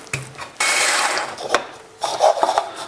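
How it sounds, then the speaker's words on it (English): A food processor coarsely chops mixed nuts: a loud, close grinding rattle runs in bursts of whirring blade noise with clattering pieces between pauses. "mixed nuts into the food processor."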